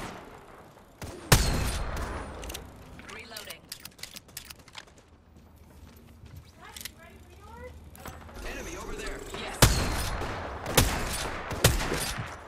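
Gunfire in the Apex Legends shooter game: sharp loud shots and bursts, some isolated and some in quick clusters, over quieter mechanical clicks and handling noises, with a voice talking at times.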